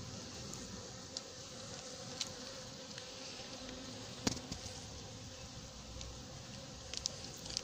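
Hornets trapped in a bottle trap drone with a steady insect buzz, faint and continuous, with a few brief louder flicks against the plastic.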